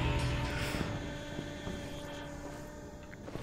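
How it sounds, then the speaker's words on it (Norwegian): A drone flying in the video game Serious Sam 4, a steady droning, propeller-like hum with a fixed tone that fades slightly over a few seconds, heard alone with no talk. "En form for drone eller noe sånt."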